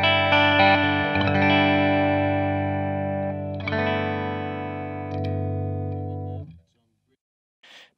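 Electric guitar played through a Modulus 5E3 amp kit turned up to 4, giving saturated, gritty chords that ring out and decay, a second strum midway, then silence before a brief faint noise.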